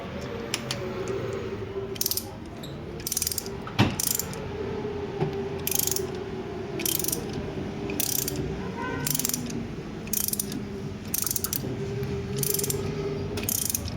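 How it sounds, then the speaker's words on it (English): A tool pushes a brake caliper piston back with steady, repeated ratcheting clicks in regular bursts, close and mechanical, alone without speech. "by using tools you can easily push forward the caliper."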